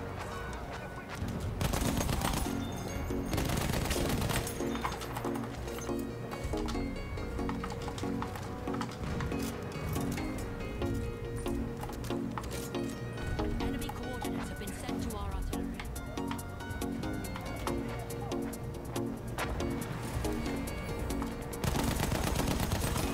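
Rapid weapon fire from a laser gun in the video game Battlefield 1, in a dense, continuous barrage mixed with game music and battle noise, with a voice talking over it throughout.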